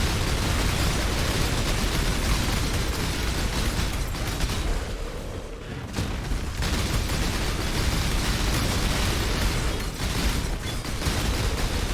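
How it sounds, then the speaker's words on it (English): Continuous dense roar of game explosions and bursts in Path of Exile, loud and sustained for twelve seconds with a brief dip midway, no voice over it. "Explosions!"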